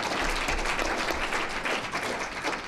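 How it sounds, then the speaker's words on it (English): An audience at an education panel event gives a round of applause, a continuous crackle of many hands clapping at moderate level. The clapping holds steady throughout, with faint crowd murmur underneath. "A round of applause, please."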